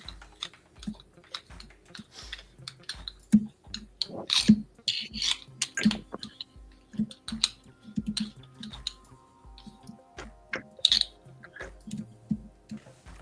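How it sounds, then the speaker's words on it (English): Computer keyboard typing in bursts of quick, irregular clicks and taps, moderately close, with short pauses between runs and no voices over it. "was that where I heard your keyboard typing?"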